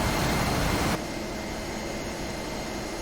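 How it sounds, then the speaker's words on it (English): F-16C jet engine in the DCS flight simulator, a steady broadband roar that drops abruptly in level after the first second, then continues as a constant lower drone during an overhead break approach to the runway. "So now I'm positioning my aircraft to do an overhead brake landing."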